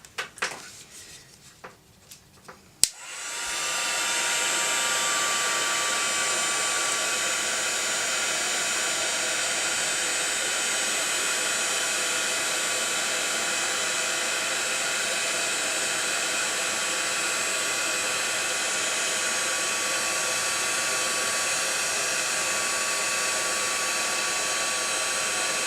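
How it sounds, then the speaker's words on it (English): Heat embossing tool blowing hot air over a flower home decor piece, a steady loud broadband whoosh that starts after a few seconds of handling clicks and runs unbroken to the end. "And heat emboss once more."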